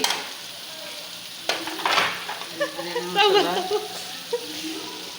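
Turmeric powder and biryani masala being stirred and fried in a pan: a steady sizzle with scraping stir strokes and brief bursts of louder frying, no talking.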